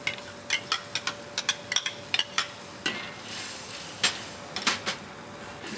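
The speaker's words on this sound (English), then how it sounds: "Then we'll mix in the mint and coriander puree, stirring all the while" A puree of mint, coriander, onions, cashew nuts and green chillies cooks in a pan while a spoon stirs it, giving sharp scraping taps over a soft, steady sizzle, close up and without talk.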